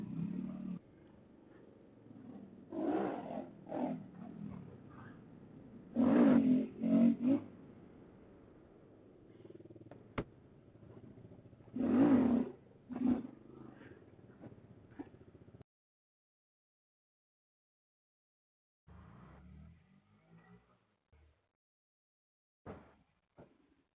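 A Honda Grom motorcycle rides off on a test ride after being reassembled, giving a few moderate rev surges and throttle swells that fade into the distance before near silence, with faint engine bursts returning later.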